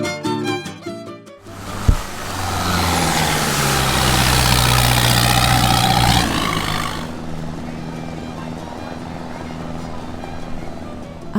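A speedboat on an island tour around Phi Phi, Thailand, sits stopped with its engine idling in a low steady rumble that swells for several seconds and then fades to a quieter hum.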